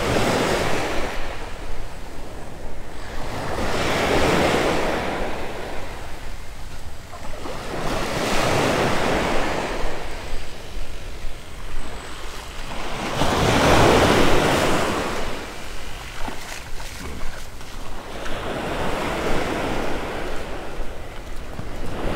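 Ocean surf rolls in at Vanderbilt Beach in North Naples, Florida, each wave surging and fading every few seconds under constant gusty wind buffeting the microphone. No one talks.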